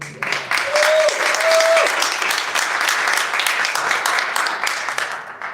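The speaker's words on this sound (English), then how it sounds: "So a big round of applause for my Pakistani community here." A crowd gives a sustained round of applause at a Pakistan Resolution Day flag-hoisting gathering for the local Pakistani community, dense clapping filling the space with a brief tonal whistle near the start.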